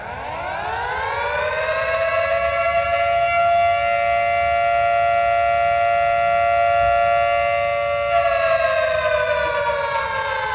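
A loud siren winds up, holds a steady wailing tone for several seconds, then begins to wind down near the end, heard alone with no talking.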